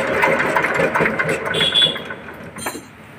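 A China CD motorcycle engine under repair is turned over and runs with a rough, rapid mechanical chatter up close, the sound wavering and briefly fading near the end, with no talk.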